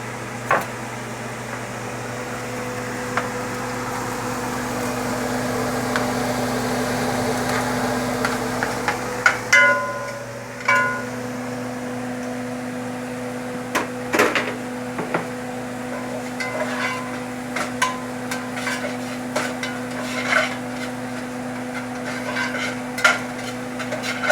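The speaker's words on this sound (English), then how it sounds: "I'm going to turn the fan on" Kitchen exhaust fan running steadily throughout, a constant hum and whoosh beneath scattered clinks and light cooking noises, with hot oil in the pan.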